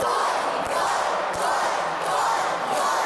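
A wrestling arena crowd roars in a sustained, dense wall of cheering and shouting from start to finish, with a couple of sharp thuds cutting through the din.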